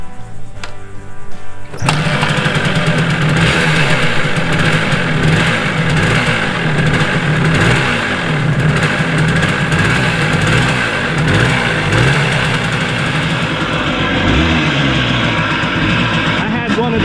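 A rebuilt Harley motorcycle engine with new crank seals and small end bearing fires up after a brief quiet start, then revs and idles loudly and continuously in repeated rising and falling surges, with speech present at times.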